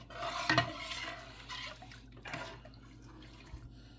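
Soft scraping and clinking of a spoon stirring thick Jamaican cornmeal porridge in a pot, close and quiet, with irregular strokes and a faint knock.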